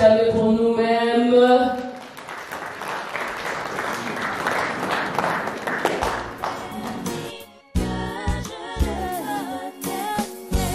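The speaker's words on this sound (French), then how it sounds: "Est-ce que nous pouvons encore acclamer pour nous-mêmes?" Applause and cheering from a crowd at a family celebration, a broad wash of clapping lasting several seconds between stretches of music, loud and close.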